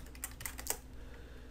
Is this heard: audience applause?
no